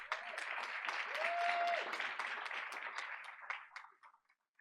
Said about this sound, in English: Let's give Sabrina another round of applause.